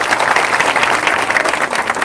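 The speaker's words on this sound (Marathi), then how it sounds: "गंगावणे सरासाठी जरा एकदा जोरदार टाळ्या वाजवा।" A crowd at a Maharashtra youth training program gathering claps loudly for Gangawane sir, a dense, even wash of applause sustained from start to finish.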